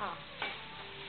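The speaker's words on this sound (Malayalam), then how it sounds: "ഇഞ്ചി, വെളുത്തുള്ളി, പച്ചമുളക്, വറ്റൽമുളക് ഇതെല്ലാം ഇട്ട് ഒന്ന് പാകമായി കഴിയുമ്പോൾ അതിലേക്ക് രണ്ട് സവാള ഇടത്തരം സവാള ചെറുതായിട്ട് ഈ സവാള നന്നായിട്ട് ബ്രൗൺ ആയി വരും" Onions frying in a pan with ginger, garlic and green and dried chilies give a soft, faint sizzle, with a brief stirring scrape partway through.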